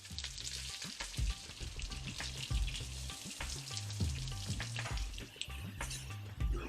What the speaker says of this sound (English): we'll move it into a hot frying pan